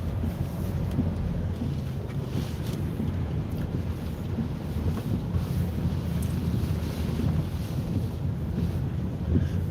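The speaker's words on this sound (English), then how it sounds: "Mad waves over here, yo." During Typhoon Khanun at Ulsan, South Korea, big ocean waves roar in a dense, continuous rumble, with heavy wind buffeting the microphone throughout.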